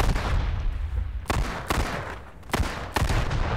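Bursts of gunfire from the game H1Z1: King of the Kill crack out in a rapid cluster, followed by several sharp single shots spaced about half a second apart over a rumbling background.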